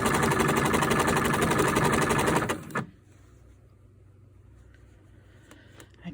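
Sewing machine running along a sweatshirt sleeve seam for a quilted coat, a loud fast rattling hum for nearly three seconds that cuts out to a low idle hum with faint clicks.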